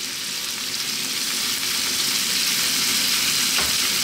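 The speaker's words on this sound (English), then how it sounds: "On this medium heat, let's go for 3 to 4 minutes, moving it around pretty much all the time." Chicken pieces with pitted olives fry over medium heat in a pan, giving a loud, continuous close-up sizzle with faint scraping as the food is stirred.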